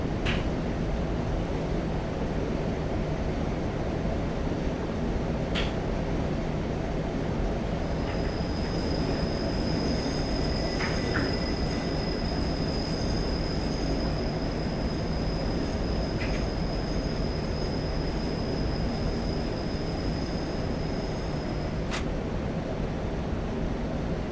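Class 37 diesel locomotive rolling downhill in Train Simulator 2015, a continuous broad rumble of wheels on track with sustained high-pitched brake or wheel squeal and occasional sharp clanks over the steady roar.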